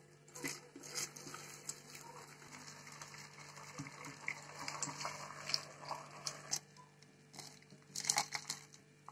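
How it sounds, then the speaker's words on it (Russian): Boiled water is poured over cucumbers in a pot, with faint, uneven splashing and pattering that builds near the end. "Берем кастрюлю и заливаем воду в огурцы."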